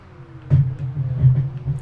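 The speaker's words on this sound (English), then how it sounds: "Ferrari sounds nice." A low, steady Ferrari engine drone in Project Gotham Racing 4 on Xbox 360, with revving swells and gear-shift surges, continuous and fairly loud with no voices.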